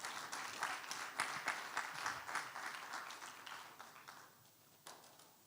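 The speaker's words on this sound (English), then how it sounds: "Please give her a round of applause." Audience applause for a certificate recipient at a Pan-African leadership conference graduation and awards ceremony, steady clapping from a hall that fades toward the end with a last few claps.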